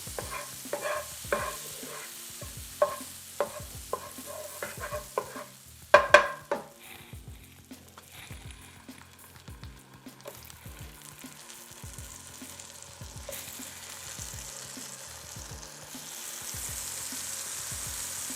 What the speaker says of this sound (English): we're gonna put our lemons in here, and we're gonna cook our lemons until they are also brown